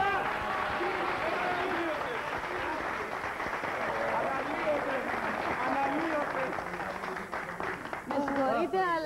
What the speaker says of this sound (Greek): Πανέτοιμος να το χειροκροτήσουμε τον Δάκη.